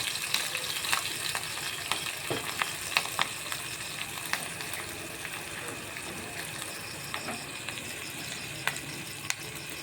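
Curry leaves, four green chillies and a pinch of asafoetida frying in oil crackle softly and continuously, with frequent small pops and ticks scattered through a low, even sizzle.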